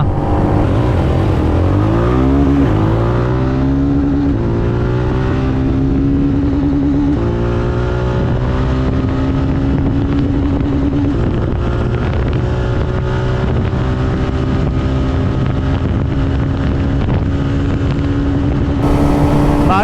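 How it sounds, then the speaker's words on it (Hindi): Royal Enfield Hunter 350 motorcycle pulling hard in fourth gear, a loud, steady engine drone with rising harmonic pitch and constant wind rush over the microphone, then a brief shift near the end. "चल चल हंटर चल, रॉयल एनफील्ड चल। चौथा गियर मैंने डाल दिया।"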